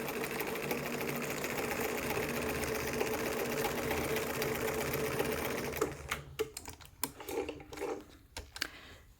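A sewing machine runs a zigzag stitch along the edge of fabric, a steady close mechanical whir that holds for about six seconds, then breaks into scattered clicks and handling knocks as it stops.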